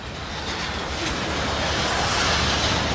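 A Union Pacific or BNSF freight train rolling through track switches near St. Paul along the Mississippi River, giving a loud, steady rushing rumble of wheels on rail heard up close without pauses.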